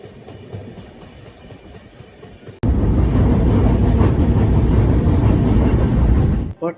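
A train travelling to Agra starts with a quieter background, then abruptly becomes a loud, close, continuous rumble with a rattling rail clatter that holds steady before briefly dropping away.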